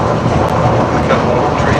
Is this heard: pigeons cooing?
no